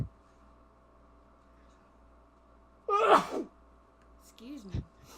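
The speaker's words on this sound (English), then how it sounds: "I have to sneeze." A single sharp sneeze bursts out at close range midway through a quiet indoor room, followed by a brief breathy sound.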